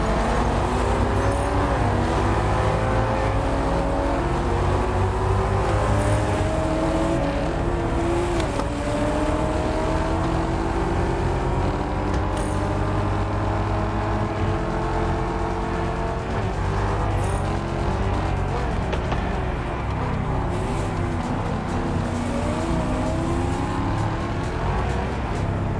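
Race car engines in Test Drive Unlimited Solar Crown, including a yellow Ferrari F40 running ahead: a loud, continuous engine drone with rising and falling revs and gear shifts that fills the whole stretch, with no talking.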